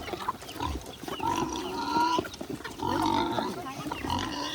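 Free-range piglets grunt and squeal repeatedly while feeding on a farm, fairly close and continuous, with people talking over them.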